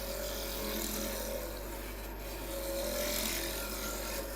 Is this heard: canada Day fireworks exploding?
no